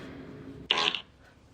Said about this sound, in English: no more fart sound effects